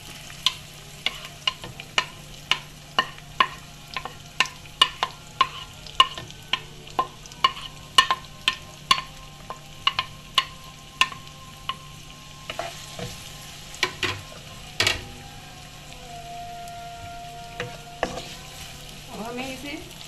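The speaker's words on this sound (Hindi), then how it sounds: "प्याज को गोल्डन ब्राउन होने तक इसे अच्छे से हम पका लेंगे" Chopped onion frying in a pan until golden brown, a low bed of sizzle under a regular run of sharp spoon scrapes and taps against the pan, then looser irregular stirring noises toward the end, close and without voices.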